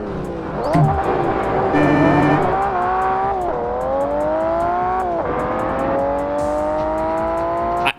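A Ferrari racing car in the video game Forza Motorsport screams through repeated upshifts and downshifts, its engine pitch rising and dropping sharply, with tire squeal and skidding through a corner, loud and close.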